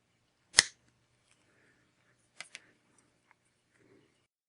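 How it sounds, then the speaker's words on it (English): Scissors snip silver wire in a quiet room: one sharp, crisp cut, then a pair of lighter clicks and a few faint taps. "I'm going to cut it at that point"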